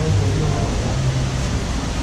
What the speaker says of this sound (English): And it is pouring down.